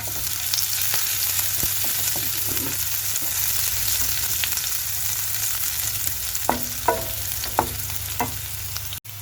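Finely chopped green chilies with ginger fry in hot oil for gobi manchurian, making a constant close sizzle with a few soft stirring taps and scrapes toward the end.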